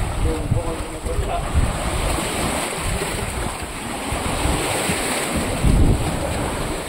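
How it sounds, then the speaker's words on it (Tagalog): Broad roar of surf washing in with strong wind buffeting the microphone, steady and continuous with swells of louder crashing. "Ito yung dagat."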